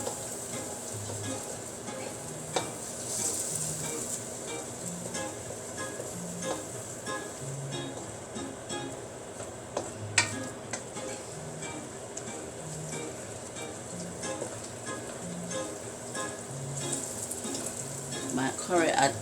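Curry sizzles and roasts in a pan, a continuous crackling fry with a soft bubbling texture and occasional stirring clicks, moderately close.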